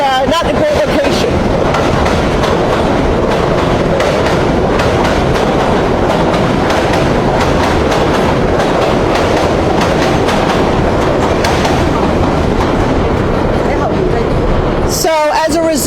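A train rolls past close by near a proposed homeless shelter site in New York City, a loud sustained rumble with rhythmic clickety-clack of wheels on rails for most of the stretch, easing toward the end.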